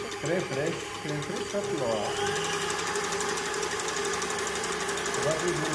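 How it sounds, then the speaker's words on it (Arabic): An electric mixer whips cream for a chilled orange dessert, giving a steady, close, buzzing motor whine throughout, with a voice talking over the first couple of seconds. "نطلعوا هذه الكريم ديالنا باش نزوقوا بها"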